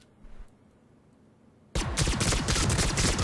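A Geth Pulse Rifle in Mass Effect 3 opens up suddenly after a quiet stretch, a loud continuous stream of rapid automatic pulse shots sustained to the end.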